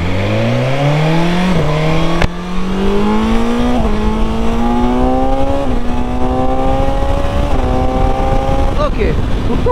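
A 2025 BMW S 1000 XR motorcycle accelerates hard, its engine note climbing through several gears with brief dips at each shift, loud and close under a steady roar of wind.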